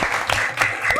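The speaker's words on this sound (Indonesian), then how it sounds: "beri aplaus untuk kita semua" Brief, lively applause from a small group in a classroom workshop, clapping alone and fairly close with a few voices underneath.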